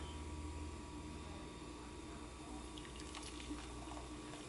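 Hot cocoa pours from a Breville hot cocoa maker into a cup, a steady liquid stream and splash with a faint faucet-like trickle, close and continuous with no talking.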